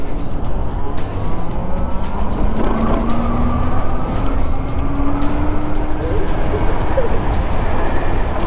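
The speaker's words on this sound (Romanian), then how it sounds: "dacă dai gaz, uite cum trage cu două persoane" A vehicle carrying two riders accelerates, its motor whine climbing steadily in pitch under a constant, loud rush of wind and road rumble.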